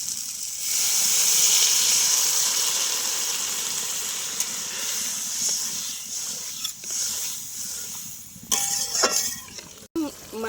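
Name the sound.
water poured into fried potato curry, hissing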